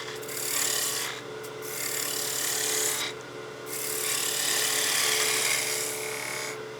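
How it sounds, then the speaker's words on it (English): A spindle gouge cuts and shapes a spinning wooden Christmas gnome on a lathe, giving a steady, close rasping scrape with brief pauses where the tool lifts off the wood. "I'm going to use the spindle gouge just to roll this over a little bit here."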